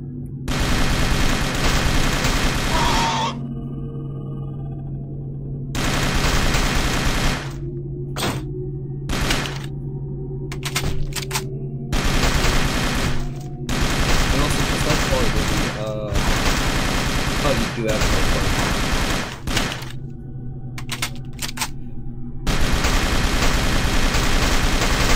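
AK-47 gunfire in a zombies video game: loud sustained automatic bursts with short pauses between volleys over a steady game background hum, and a voice talking during some gaps.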